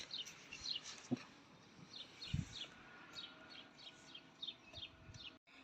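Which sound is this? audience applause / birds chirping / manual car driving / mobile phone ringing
birds chirping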